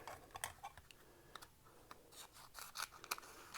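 Scissors snip through tape and paper for a journal, with a series of short, crisp, close cuts spaced irregularly, quiet and alone.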